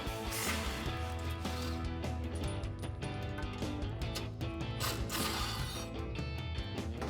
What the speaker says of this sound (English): Grab a 15 socket and an impact gun or ratchet, go underneath and take those two bolts out